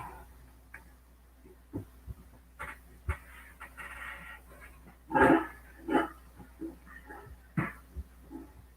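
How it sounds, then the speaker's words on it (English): Puppies outdoors bark, yip and whine in a scattered series of short calls, mostly faint and distant with a louder cluster midway, over a low steady hum. "Did y'all hear these puppies out there?"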